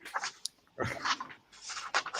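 Dogs bark in the distance in short scattered bursts, fairly faint, with a sharp yip and some whimpering mixed in, heard alone without speech.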